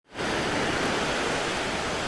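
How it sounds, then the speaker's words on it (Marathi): Sea waves wash steadily onto a shore in a continuous, loud, broadband roar that swells in after a brief quiet start and holds without pause. "चला आनंद घ्या तुम्ही समुद्रांच्या लाटांचा"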